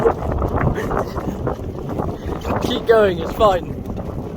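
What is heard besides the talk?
wind noise on microphone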